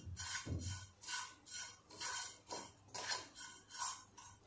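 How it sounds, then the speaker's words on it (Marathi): Homemade pav bhaji masala being stirred and roasted on a hot tawa over a low flame, with quiet, rhythmic scraping strokes repeating about twice a second. "सिम गॅसवर थोडं परतून घेते"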